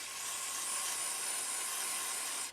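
Cleaner sprayed from an aerosol can into a Kel-Tec P3AT pistol during cleaning, a steady close hiss that runs without pause for about two and a half seconds and cuts off at the end.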